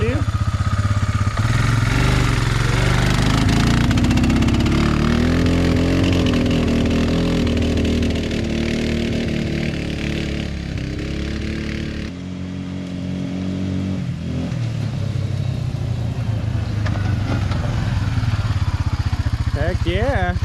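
A motorcycle engine, freshly treated with Seafoam, runs steadily and close by for the whole stretch, a throaty rumble with revs rising and falling, while someone talks over it.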